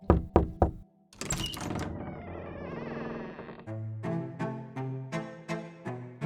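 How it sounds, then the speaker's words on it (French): Three quick knocks on a wooden front door, close and crisp, then a swell of dramatic music with rhythmic plucked notes carries on to the end. "elle monta les marches jusqu'à la porte d'entrée et frappa 3 coups"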